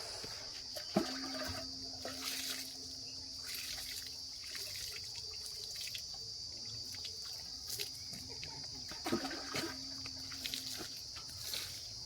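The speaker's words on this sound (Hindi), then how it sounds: "तो मैं थोड़ा हाथ धो लेती हूँ।" Tap water runs in a steady, soft trickle while someone washes their hands at a maternal uncle's home in Chaibasa, with faint insect chirping throughout and no talking.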